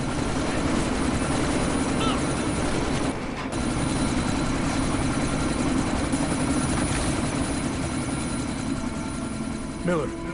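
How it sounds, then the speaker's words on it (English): A helicopter drones steadily through a loud, dense rotor-and-engine roar in a military action video game, filling the whole stretch with only a brief dip in the middle. "you need to disable that chopper"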